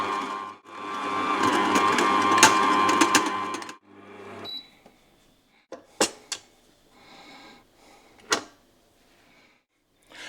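Stand mixer with a dough hook kneading hot cross bun dough, a loud whirring motor hum with rattling for several seconds that then cuts off, followed by scattered clanks and knocks of the bowl and hook being handled.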